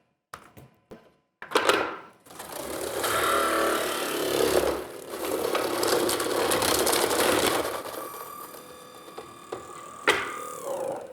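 A Goodnature M-1 juice press grinds lemon with a loud, harsh mechanical grinding and whirring that runs for several seconds after a few sharp knocks, then fades into a couple of clunks.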